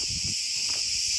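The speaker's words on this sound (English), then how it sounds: "the cicadas are so loud." Cicadas in the trees keep up a loud, continuous high-pitched buzzing drone that fills the air without pause, with a faint low thump or two underneath and no voices.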